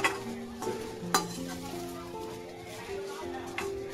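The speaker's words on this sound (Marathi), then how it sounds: "वाटाणा टाकलाय ना. त्याला चांगलं हलवून घेऊया." Rice with peas being stirred in a pan for masala bhat, a Maharashtrian dish, producing scraping stir strokes over a steady sizzle, with a few sharper clinks against the pan and a voice talking over it.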